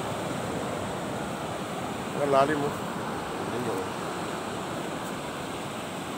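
Sea waves wash steadily onto a beach in a broad, continuous roar, mixed with wind noise on the microphone, while a person speaks briefly in the middle.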